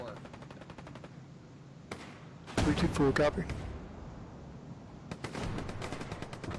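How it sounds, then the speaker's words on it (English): Video game gunfire sounds in rapid bursts, with a sharp rattling machine-gun volley in the middle and more shots later, while a person speaks over the battle noise. "Oh my god, there's gunfire right there."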